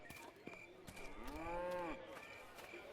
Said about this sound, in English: Yeah, his cows were sickly.